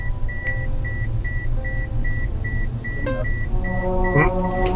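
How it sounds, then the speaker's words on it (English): A car's seatbelt warning chimes in steady, evenly spaced beeps over low engine and road hum inside the vehicle, with a brief clunk partway through. "Won't you put on your seatbelt? It will stop. The beep will stop."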